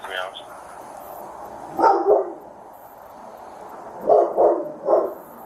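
A dog barks in several short bursts, around the two-second mark and again near four and five seconds, fairly close by, with faint indoor sounds in between and no clear speech.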